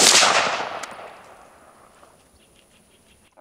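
A Kalashnikov rifle fires a single loud shot during a rifle grenade test, a sharp blast at the start followed by a long, fading echo tail.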